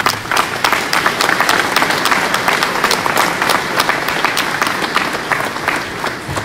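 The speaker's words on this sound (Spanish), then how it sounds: "Un aplauso por él." An audience bursts into sustained applause honoring an engineer and geologist at a tribute gathering, many hands clapping loudly and evenly for several seconds, with no voices over it.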